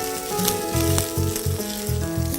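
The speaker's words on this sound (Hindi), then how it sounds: "इसको आप हल्का सा भून लें अदरक और लहसुन को" Chopped ginger and garlic frying in a pan, a close, continuous sizzle with a rhythmic series of low knocks or stirring taps running beneath it.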